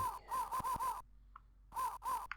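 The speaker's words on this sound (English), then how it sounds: "Noisy birds" Harsh crow caws in the Sega Mega Drive game Cannon Fodder, two bursts of repeated calls, loud and close, separated by a quiet pause with a faint short call in between.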